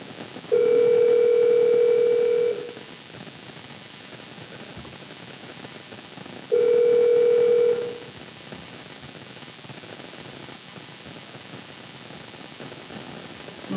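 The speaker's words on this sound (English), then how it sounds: "we're going to try to see if we can get the caller on the line again" A telephone line rings while a call back to a caller is attempted: two long, steady ring tones about six seconds apart, each lasting around two seconds, over a constant bed of faint static hiss.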